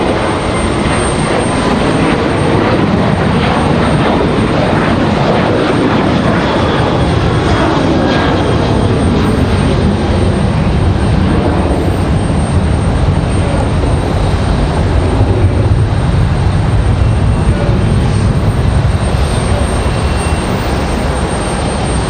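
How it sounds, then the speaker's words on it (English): Southwest Airlines jet taking off from Raleigh-Durham International, a loud, steady engine roar that holds for the whole stretch with a slowly shifting pitch, no voices over it. "Southwest gonna lift off nice and early."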